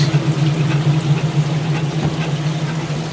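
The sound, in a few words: Kenmore 80 Series washing machine draining water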